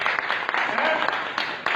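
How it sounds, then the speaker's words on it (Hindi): A church congregation at a Hindi-language service claps together in a short burst of brisk, overlapping handclaps, fairly loud and near. "तो उसके लिए ताली बजा दो"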